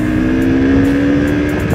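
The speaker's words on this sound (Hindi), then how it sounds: "साइलेंसर का साउंड, इसका इंटरवली एग्जॉस्ट है अभी तो" A motorcycle with an aftermarket interval exhaust while riding, a loud continuous engine drone with a steady low tone and slight revving, close to the rider, with no voices.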